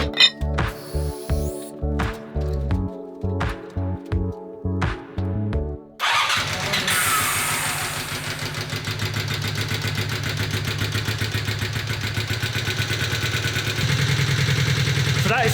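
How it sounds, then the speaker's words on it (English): Honda CB250 Super Dream motorcycle engine, fitted with new rubber inlets, cranks over in several strained bursts before catching at about six seconds and settling into a steady, even idle with a faint rev lift near the end. "start the engine again, and see how the engine reacts to those new rubber inlets"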